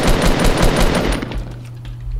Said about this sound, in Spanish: ¿Eso era disparos a ti?